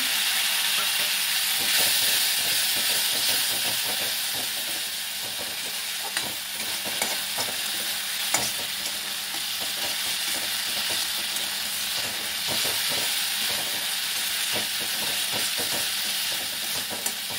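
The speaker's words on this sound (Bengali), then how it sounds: "মশলাটা একটু কষিয়ে নিয়েছে" Spice masala with ginger paste and a splash of water frying in a pan for Bengali muri ghonto, a steady close sizzle and hiss with scattered scraping stirs throughout; no voices.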